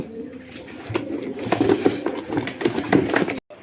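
Pigeons coo steadily at close range while black racer pigeons are handed over for delivery, soft overlapping throaty calls with faint background movement, ending in a brief cut to silence.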